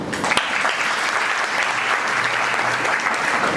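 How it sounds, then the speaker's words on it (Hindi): A roomful of people at an MLM leadership training session breaks into brisk, steady applause, dense clapping holding evenly for several seconds without talk. "तभी भैया के लिए तालियां बजाओ।"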